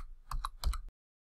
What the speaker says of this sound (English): now we're going to type in our first command